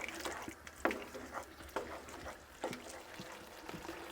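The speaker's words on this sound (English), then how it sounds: "Give that a little stir up." Chilli con carne being stirred in a pan after a squeeze of tomato puree, with soft scraping and wet sloshing strokes spread across a few seconds, fairly quiet and without talk.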